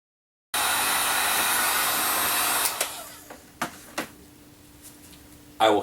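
A heat gun blows steadily while heating and melting plastic wrapped onto the horns of a Krampus mask, a continuous airy roar that cuts off partway through, followed by a few faint clicks and light handling knocks.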